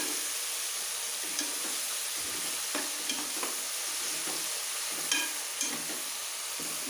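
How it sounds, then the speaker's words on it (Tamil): Tomatoes sautéing in a pan for coriander rice, a constant loud frying hiss with occasional stirring scrapes and small crackles, no voices. "பாருங்கள் தக்காளி எவ்வளோ நல்லா வணங்கிருச்சுன்னு"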